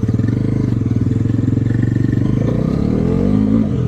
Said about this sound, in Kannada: ಫಸ್ಟ್ ಗೇರ್ ಅಲ್ಲೇ ಗಾಡಿ ಸಕ್ಕತ್ತಾಗಿ ಎಳೆಯುತ್ತೆ